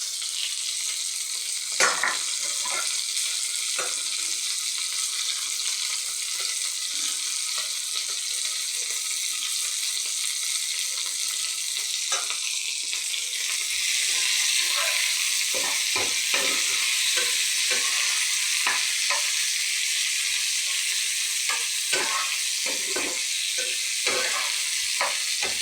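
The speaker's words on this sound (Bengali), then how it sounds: "এবারে দিচ্ছি রসুন কুচি।" Chopped garlic frying with onion and capsicum in a pan, a steady close sizzle that swells louder midway, punctuated by scraping stir strokes, with no talking.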